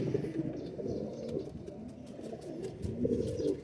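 Teddy pigeons coo nearby in low, rolling, repeated calls, with faint higher chirps scattered over the soft cooing.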